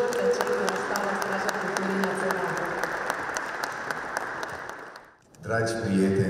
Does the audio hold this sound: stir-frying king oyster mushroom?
no